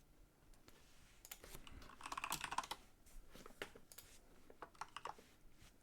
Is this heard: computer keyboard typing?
yes